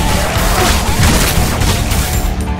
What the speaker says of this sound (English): I gotta get that shotgun to shoot faster